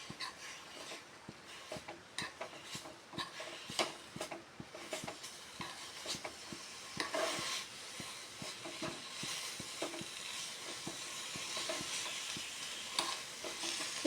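Cumin seeds and black peppercorns dry roast in a hot pan, giving a faint, continuous dry rattle and hiss with quick scraping stirs throughout, no voices.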